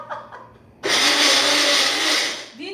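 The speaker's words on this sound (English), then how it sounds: "you hear me blending earlier?" A blender starts abruptly and runs loud and steady for nearly two seconds, then cuts off, with brief voices just before and after.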